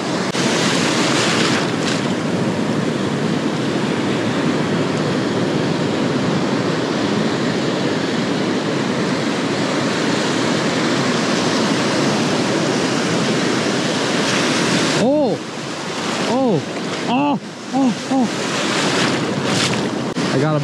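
Surf rolls in with a constant loud wash on a California beach, buffeted by heavy wind noise, and several sharp clicks and rattles come near the end.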